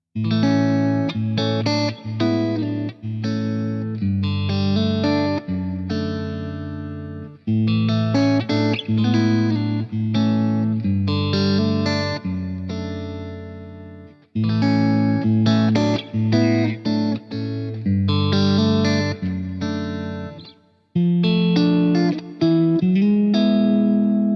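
A Synergy Marshall JMP amp on its clean channel plays an electric guitar: chords and single notes ring steadily, full and close, with a few short pauses between phrases and no talking.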